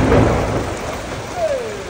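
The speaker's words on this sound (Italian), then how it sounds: "perché sta grandinando noci e abbiamo il locale praticamente tutto sotto una pergola" A storm of walnut-sized hail and heavy rain drums on a pergola sheltering a street-food eatery, with thunder rumbling low at the start, a dense steady patter throughout and a faint whistling tone rising near the end.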